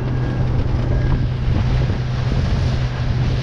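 Small boat motoring along a shipping channel at idle, with a steady low engine drone mixed with heavy wind and water rush close to the microphone.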